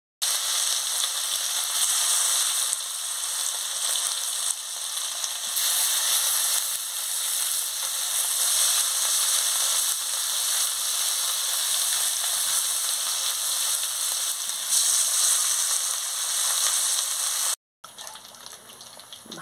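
Fish coated in garlic, onion and chilli paste sizzles steadily in hot oil, a loud, continuous frying hiss that runs without a break before cutting off abruptly near the end.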